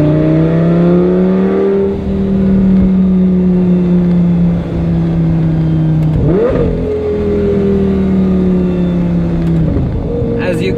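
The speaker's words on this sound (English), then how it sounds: "Lambo still driving really well." A Lamborghini engine drones loud and close while driving, holding a steady pitch and then rising sharply in a quick rev before settling, with faint road and wind noise underneath.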